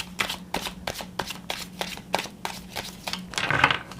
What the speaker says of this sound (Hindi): इस कार्ड को शफल करना थोड़ा सा मुश्किल है ना।